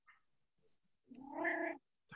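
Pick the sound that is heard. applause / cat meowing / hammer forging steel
cat meowing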